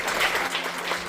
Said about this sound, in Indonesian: tepuk tangan yang meriah buat Tuhan.